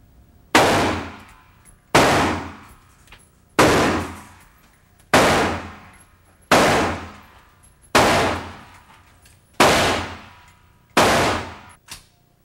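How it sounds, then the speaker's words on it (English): Eight .223 caliber rounds fired from an AR-15 rifle, each a loud, sharp report with a short decaying tail, evenly spaced about every second and a half and heard alone. "Here's a .223 caliber bullet fired from a banned AR-15 rifle."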